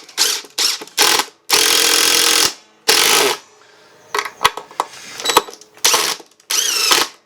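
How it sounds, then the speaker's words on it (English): A power driver sends screws into a Workmate 400 vise in several short, loud bursts, separated by pauses and clicks from the mechanism, with no voices. "So I'm just going to drive these screws down."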